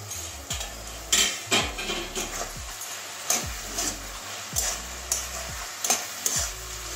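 A utensil stirs potatoes and carrots frying in plenty of oil in a pan for a cabbage and egg curry. Sharp scraping strokes land about every half second over a continuous close sizzle, with no voices.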